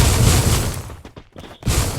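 Gunshots in a shooting video game during a tournament match roar in a dense, loud fusillade that thins into scattered shots, then swells back into heavy firing, with no voices.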